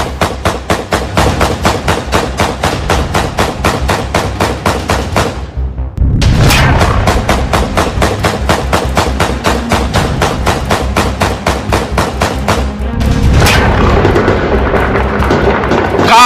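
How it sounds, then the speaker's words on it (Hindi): Sustained automatic gunfire in Kabul, rapid rhythmic bursts of loud close shots repeating almost continuously, with brief pauses and heavier booming reports mixed in. "काबुल में गोलियां रुक नहीं रही हैं।"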